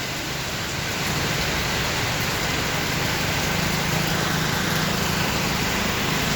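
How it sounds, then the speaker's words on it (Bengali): Steady, dense hiss of heavy rain falling in Phnom Penh, Cambodia, constant and loud from start to finish with no breaks. "বৃষ্টি তাড়াতাড়ি চলে যা, যা যা।"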